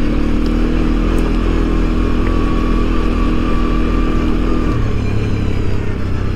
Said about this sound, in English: That engine braking is fantastic.